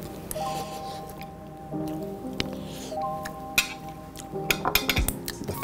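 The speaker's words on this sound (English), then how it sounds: "I need my fork for the egg." Fork working into an egg in shakshuka of tomatoes, feta and herbs in a pan, giving soft squishy sounds and light metallic clinks, quiet and close, with denser clinking toward the end.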